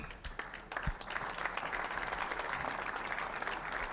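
A round of applause for General Muhoozi from a seated crowd at a gathering: sustained, even clapping from many hands, fairly loud and alone throughout.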